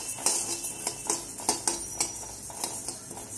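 A spatula stirs spices, coriander among them, roasting for chakali bhajani in a hot kadhai, making quick, evenly spaced metallic scrapes and clinks, close and steady, with no voices.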